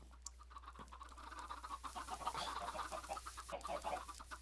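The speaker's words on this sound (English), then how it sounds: "I have a chicken farm." Chickens cluck on a chicken farm in a video game, a faint scattered flock of repeated clucks and chatter over a low steady hum, no voices.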